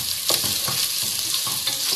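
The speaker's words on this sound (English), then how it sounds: "just make sure you don't burn your onions." Onions frying in a pan while pasta is cooked, with a constant loud sizzle and occasional stirring scrapes, close up and without voices.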